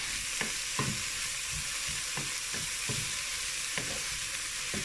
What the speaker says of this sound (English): Now sauteing the onions and the celery.